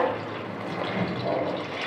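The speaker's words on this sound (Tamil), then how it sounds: "நான் இன்னைக்கு நார்மல் ரைஸ் எடுத்துருக்கிறதுனால 1 டம்ளர் ரைஸுக்கு 2 டம்ளர் அளவுக்கு தண்ணி ஆட் பண்ணிக்கிறேன்." Water poured into rice while cooking Navratan pulao, a continuous close splashing and filling sound lasting almost two seconds, steady in volume with no voices.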